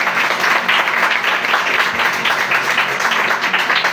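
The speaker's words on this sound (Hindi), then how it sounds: "जितनी बरकत मिली है उतनी जोर से तालियां बजाएं खुदा की बरकत" A congregation at a prayer meeting claps loudly and close, a dense, lively patter of many hands with faint rhythmic pulsing and no talk over it.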